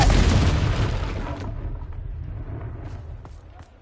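A Confringo blasting spell explodes in the Hogwarts Legacy video game: one close, heavy boom with a deep rumbling decay that fades over several seconds, followed by a few faint clicks.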